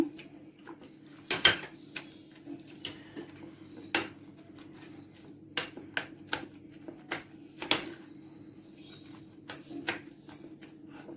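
Thick eclair dough with eggs being stirred in a metal pot, with a spoon knocking and scraping against the sides in irregular clinks and taps over a low, quiet background.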